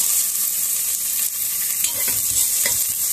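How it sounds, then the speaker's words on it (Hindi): Onions fry in hot oil with cumin seeds and asafoetida for green pea dal, a loud, constant hissing sizzle with a few brief stirring scrapes, no voices. "अब तेल गरम हो गया है, हींग जीरा डाल देंगे। जीरा ब्राउन होने के बाद ये प्याज भी डाल देंगे"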